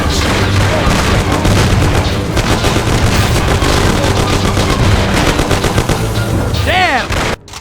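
Sustained heavy gunfire in the gangster shooter Mafia, dense overlapping shots and booming bursts nearly continuous and loud, ending abruptly, with shouted voices mixed in.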